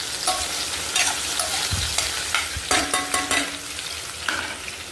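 Tomatoes, onions and eggs being stirred and fried together in a pan, a steady sizzle with repeated scraping and stirring strokes, close and continuous, no voices.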